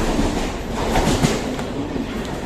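A passenger train on the Valsad line near Vasai and Virar runs steadily along the rails, a continuous close rumble of wheels and carriage noise with faint clatter throughout, no voices.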